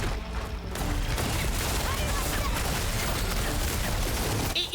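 Gunfire in Horizon Forbidden West, a dense burst of rapid shots and booms running nearly continuously across a few seconds, loud and close, with brief pauses at the start and end.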